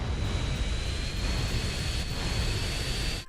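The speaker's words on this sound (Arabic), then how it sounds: "وانت قاعد تسوق بالطيارة البايخة هذه اللي صعب التحكم فيها" Airplane engine in GTA San Andreas during a hard-to-control flying mission, a loud, steady roaring drone with broad noisy rumble and a thin high whine, continuous and alone until it cuts off at the end.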